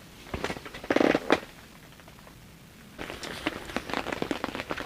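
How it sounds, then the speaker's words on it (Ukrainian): Rain pattering on a fishing tent during a carp session, a steady scatter of soft drips and taps with a few louder bursts of close impacts on the fabric. "Дощик капає вже дві години десь. Сидимо в шатрі."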